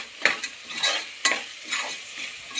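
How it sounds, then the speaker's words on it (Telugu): A spoon stirs packaged biryani masala and ingredients through a sizzling pot for prawn biryani. Scraping strokes rise and fall over a continuous close frying hiss, with no voices. "ఇవన్నీ బాగా కలుపుకుందామండి."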